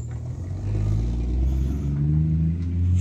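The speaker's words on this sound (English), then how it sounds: "You can hear this car, sounds really nice." A Triumph 2000 car passing nearby at dusk, its engine giving a steady low rumble that builds and holds, heard on its own without talk.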